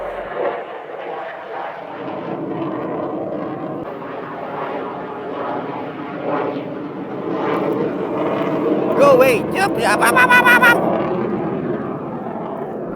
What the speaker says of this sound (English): I was being attacked by some fighter jets.